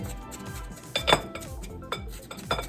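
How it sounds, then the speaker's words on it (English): Metal kitchen utensils and a large knife clatter and clink together as the knife is picked out, with a few sharp louder clanks over steady low background noise while preparing hush puppies. "let me get a bigger knife. A bigger knife."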